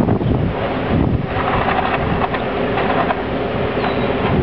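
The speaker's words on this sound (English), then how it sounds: "Here comes the wind." Strong wind gusts during a tornado buffet the microphone with a loud, continuous roar and rumble, close and unbroken, with no voices.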